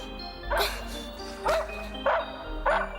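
A dog in a film barks and yips four times in quick, loud, separate bursts, each short and sharp, over a steady low hum with no talking.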